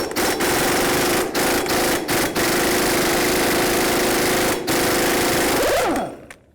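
Impact wrench hammering steadily on the front axle nut of a 1984-2001 Jeep Cherokee with a 36mm socket, a loud continuous rattling burst with brief pauses, then winding down at the end.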